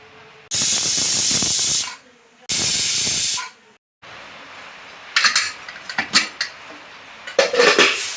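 Two loud, sustained bursts of hissing steam from a pressure cooker cooking thiruvathirai kali, followed by clinking metal and pot sounds.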